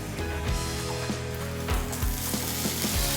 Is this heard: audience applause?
no